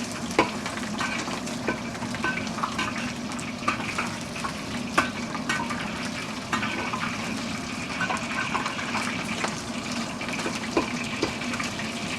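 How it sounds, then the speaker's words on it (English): Shrimp stir-fry in hot oil with a loud, continuous sizzle, broken by scattered scraping and clacking as they are stirred. No one speaks. "just stir fry briefly until the shrimp turns color"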